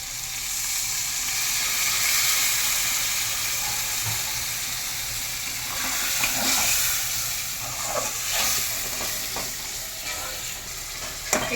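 Chicken masala with cumin and coriander simmering in a pan after a splash of water, a steady close sizzle and hiss with occasional bubbling pops and faint stirring scrapes throughout.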